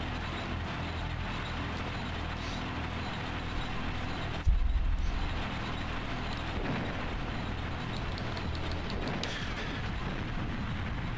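Tank cannon fire in GoldenEye 007 on the Nintendo 64, one loud low boom partway through over a dense, constant layer of game noise and rumble.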